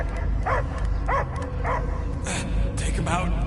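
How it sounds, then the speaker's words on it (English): Dog in Guardians of the Galaxy giving a short series of barks and yips, about four at regular intervals, then higher whining yelps, over a steady low game hum, no talk. "I hear only barking."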